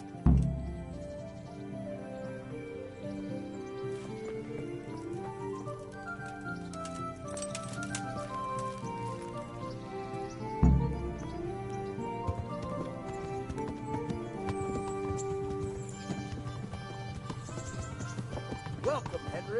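Horse hooves during riding in the video game Kingdom Come, a soft rhythmic clip-clop running under a bed of layered orchestral music, with a sharp thump near the middle and speech present.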